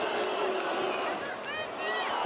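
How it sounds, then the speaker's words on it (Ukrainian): A dense, steady roar of a football stadium crowd at a Ukrainian Premier League match between Karpaty and SK Poltava, broad and continuous with a few faint voices standing out. "Я зараз помовчу просто от шум стадіону."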